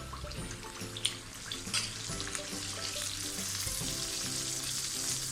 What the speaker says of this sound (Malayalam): അപ്പോൾ ചൂടാവുന്ന സമയത്ത് നമുക്ക് പതുക്കെ മാവ് ഇതിലോട്ട് ഒഴിച്ചു കൊടുക്കാം